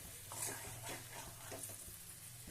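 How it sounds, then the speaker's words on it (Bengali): Cauliflower is gently sautéed with spices and a splash of water in a pan for a Bengali cauliflower roast, giving a steady close sizzle with soft stirring scrapes and a low hum underneath. "কপির সাথে একটু কষিয়ে নিই আস্তে করে"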